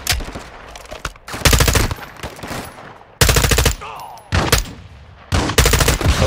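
Bursts of automatic gunfire in Modern Warfare 2 campaign combat, several loud sustained volleys of rapid shots separated by short gaps, with someone briefly talking between them.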